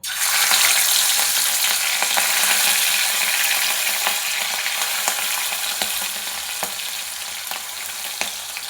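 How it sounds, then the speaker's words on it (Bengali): Prawns fry in hot mustard oil in a kadai, a loud, steady broadband sizzle with scattered crackles and spits running the whole time, close and alone without speech. "তেল গরম হয়ে গেছে মাছগুলো ভেজে নেব"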